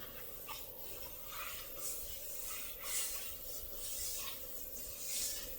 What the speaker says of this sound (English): Now, I'm going to wipe it down with a paper towel.